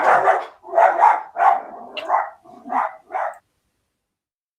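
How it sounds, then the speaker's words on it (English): A dog barks about seven times in quick, uneven succession, with loud, fairly close woofs, then goes quiet. "There's that dog again."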